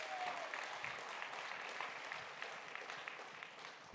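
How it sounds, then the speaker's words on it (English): Audience applause at a live comedy and magic show, a dense, even wash of clapping that holds steady for about four seconds with no voices on top. "A round of applause for Dimpesh, folks"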